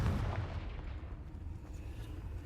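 A Confringo fire-blast spell from the game Hogwarts Legacy goes off in a loud, boomy burst at the start, its rumbling roar trailing away over the next couple of seconds.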